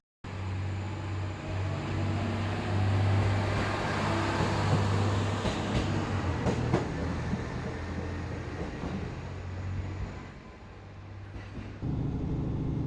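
A passenger train, nearly empty, runs steadily along the rails with a constant rumbling drone and low hum, broken by a few faint clicks and a drop in level near the end before the roar resumes.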